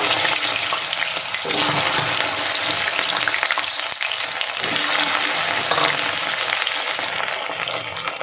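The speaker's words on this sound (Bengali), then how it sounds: "দিয়ে প্রথমে আমি গাটি কচুগুলো ছেড়ে দেব" Taro pieces frying in hot salted oil in a pan, a dense, steady bubbling sizzle that stays loud and continuous throughout, with faint stirring scrapes and no voices.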